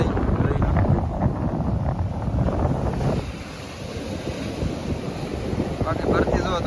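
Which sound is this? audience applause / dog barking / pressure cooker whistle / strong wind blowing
strong wind blowing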